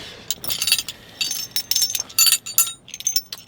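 Metal bolts being handled as hardware for a homemade steering wheel puller, giving light, bright clinks and jingles in several short, irregular bursts close by, with no talking.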